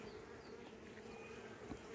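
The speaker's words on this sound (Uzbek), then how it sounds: "arilar rosa ko'p ekan." A newly settled colony of Buckfast honey bees buzzing in a hive, a dense continuous drone of many wings, close and steady for the whole stretch.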